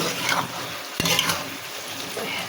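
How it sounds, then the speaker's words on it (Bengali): Bottle gourd being stir-fried in a pan, with a steady sizzle under repeated scraping and stirring, a sharp utensil knock about midway, no voices. "লাউটা নাড়াচাড়া করে সুন্দর করে কষিয়ে নিয়েছি।"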